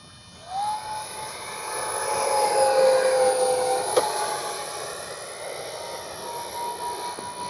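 An X-Fly 40mm F-15 RC jet passes overhead with a rising, steady electric ducted-fan whine that swells toward the middle and then eases as the motor is cut, heard alone outdoors.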